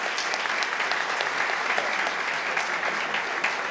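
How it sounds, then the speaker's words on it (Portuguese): Ceremony audience at a military history institute gathering giving a round of applause for honorees, dense even clapping from a sizable crowd held steady throughout. "Uma salva de palmas, senhoras e senhores."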